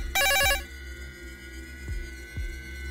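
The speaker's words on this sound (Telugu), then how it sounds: "ఫోన్ మోగుతుంది కానీ ఏ నెంబరు కనిపించటం లేదు." A cellphone rings in a short, bright, trilling burst right at the start, then cuts off, leaving a quiet room with a couple of soft low thumps.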